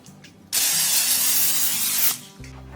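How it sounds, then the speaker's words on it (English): An aerosol can of cooking spray hisses into a 13x9 casserole dish in one loud, close, continuous burst of about a second and a half, with quiet room sound before and after. "and I give it a good spray with my cooking spray."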